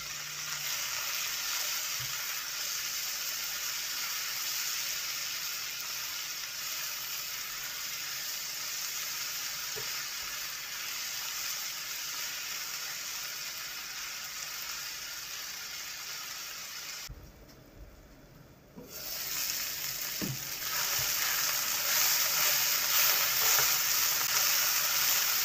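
Eggplants frying in a hot pan, a loud, steady close-up sizzle that runs almost without break, briefly dipping while the pieces are stirred before the hiss returns even stronger.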